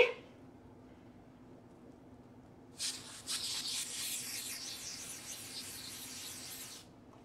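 Spray paint hissing onto knitted sock blanks: after a few seconds of near quiet, a steady airy spray burst runs for about four seconds, then cuts off.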